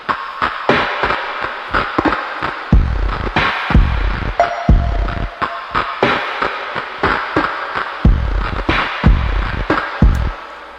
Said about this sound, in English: We fully introduce a proper drum pattern.